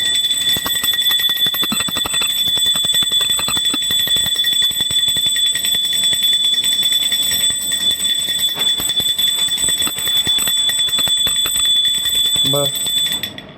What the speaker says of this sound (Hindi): ठाकुर जी तभी भोग लगाते हैं जब घंटी बजती है।